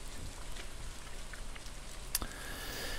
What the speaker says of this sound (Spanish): Ahora que está lloviendo